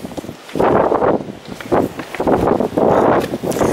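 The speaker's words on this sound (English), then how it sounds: "Very windy indeed." Gusts of strong wind on a beach by a pier roar and buffet the microphone in surging waves, rising and falling over a few seconds.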